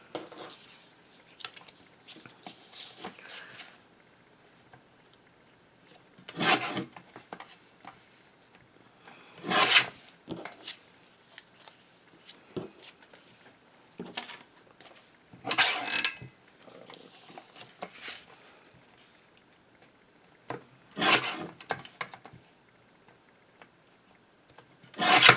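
Recycled Christmas cards are trimmed with a cutting tool at a craft table, giving several separate bursts of rasping, scraping cuts spaced a few seconds apart, with quiet handling noises between them.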